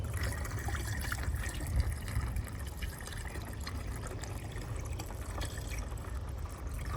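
A 50-50 coolant blend pours steadily through a funnel into a car's cooling system, a close, continuous trickling and filling gurgle with no talking.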